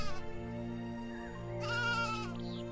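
Sheep bleat in a children's Bible story, a wavering cry rising over sustained soft musical tones, heard alone without talk.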